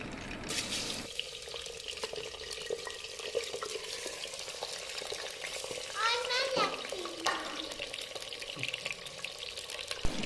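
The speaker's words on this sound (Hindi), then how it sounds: "ऑयल गर्म हो चुका है, अब हम इसमें चिकन डालेंगे।" Chicken pieces frying in hot oil for a chicken handi make a dense, steady sizzle close by, with occasional scrapes and clinks of stirring over the crackle.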